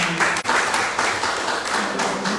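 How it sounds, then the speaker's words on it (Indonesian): A gathered audience claps steadily for a few seconds, dense clapping close by and fairly loud, with a brief dip early on. "Tepuk tangan buat mereka semua"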